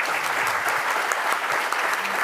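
A conference audience at the Global Anti-Scam Summit Europe 2024 applauds its five panellists: steady, dense clapping that fills the whole stretch at an even, fairly loud level, with no voices standing out.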